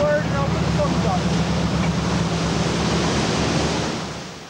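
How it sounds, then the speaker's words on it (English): Storm waves break and surge at sea around a lifeboat crossing a harbour bar, a dense, continuous roar of water and wind noise that holds steady before easing slightly at the end. "the yacht threads through the waves which have undone so many boats in the past"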